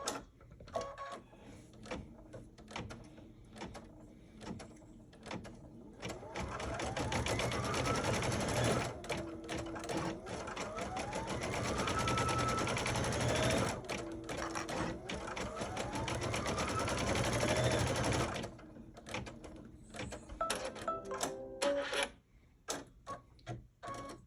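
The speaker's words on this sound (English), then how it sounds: "what they're going to ask us to do is to stitch" Embroidery sewing machine stitching three filling lines on a Kimberbell Sweet Liberty pie quilt block, a steady fast mechanical whir with shifting pitch running for most of the stretch, fairly close, preceded and followed by quieter clicks and pauses.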